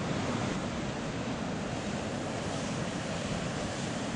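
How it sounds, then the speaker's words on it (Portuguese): Ocean surf rolling onto the beach at Praia da Almagreira in Peniche, Portugal, a steady, loud broadband wash of breaking waves with some wind rumble, continuous and unbroken throughout, no voices. "Há algumas ondas hoje, mas não estão assim muito boas para o surf."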